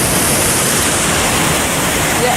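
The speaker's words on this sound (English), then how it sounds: "Low Force waterfall here." Low Force waterfall on the River Tees near Middleton-in-Teesdale roars as a loud, steady wash of falling water, dense and unbroken throughout with no voices over it.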